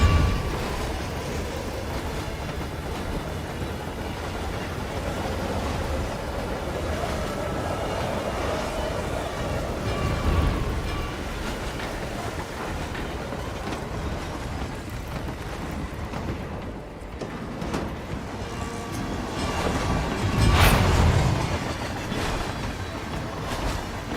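A train rolls along rails in the video game Hitman 3, giving a steady, continuous rumble of wheels on track throughout, swelling slightly near the end.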